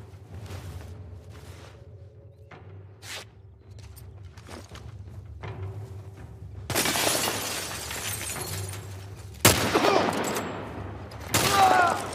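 Gunfire in The Last of Us Part I starts as scattered thuds and clicks, then becomes loud, sharp bursts of shots with shattering debris, heaviest late in the stretch.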